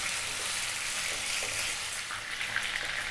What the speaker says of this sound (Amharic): ዘይቱ ከኪዩሚኑ ጋር እየተጠበሰ ነው።